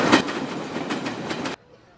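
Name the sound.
train passing in background of phone call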